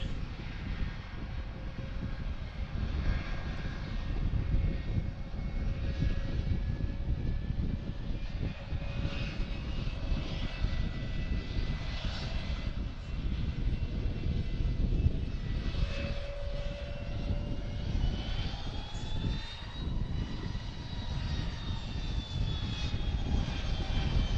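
Boeing 717 airliner engines roar steadily on approach and go-around at Harrisburg, a continuous distant-to-near jet rumble with rising whine tones, no talk over it.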